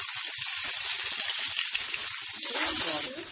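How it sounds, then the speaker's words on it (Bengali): Sliced onion and green chili frying in a pan of hot oil, a steady close sizzle with brief bubbling near the end. "তেলটা গরম হলে পেঁয়াজ আর কাঁচামরিচ ফালি দিয়ে দিব।"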